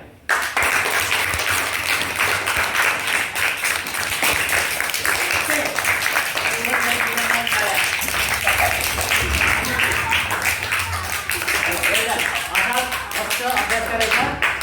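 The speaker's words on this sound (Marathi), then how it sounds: "आता या दोघांसाठी जोरदार टाळ्या होऊ द्या" A classroom of students claps loudly and continuously for two classmates, a fast, busy patter of many hands lasting the whole stretch, with faint voices mixed in.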